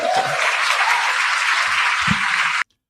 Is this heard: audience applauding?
yes